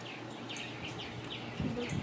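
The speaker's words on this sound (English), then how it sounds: "Are you through with that bird, Brenda?" A small wild bird being held in the hand during bird banding in Texas gives a rapid series of thin, high chirps, fairly close, over a rustling outdoor background.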